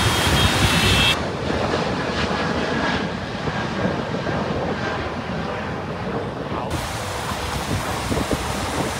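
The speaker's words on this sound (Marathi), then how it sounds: "हे आलं विमान आलं," An airplane passing over Mumbai during the Borivali Cha Maharaja Ganpati arrival in 2025, a loud broad roar that holds for several seconds before easing, with no voices standing out.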